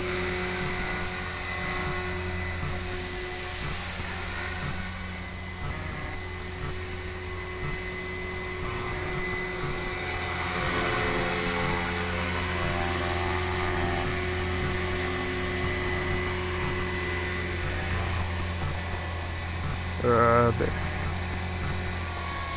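An RC helicopter fitted with a Leadershobby GY520 gyro whines steadily with a droning, buzzing rotor tone during its flight, with someone talking over it as it comes in to land outdoors in soggy Nottinghamshire.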